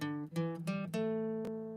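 A short guitar riff of a few plucked pentatonic notes, each ringing out with clear harmonics, the last note sustaining and slowly fading.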